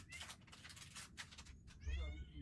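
A hungry house cat meows several times close by, short plaintive calls breaking through quiet room noise, with a louder rising meow near the end.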